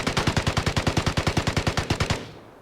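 Sustained automatic gunfire from the VSS Vintorez in the video game Vigor, a rapid, even burst of about twenty closely spaced shots lasting around two seconds, then a short fading tail.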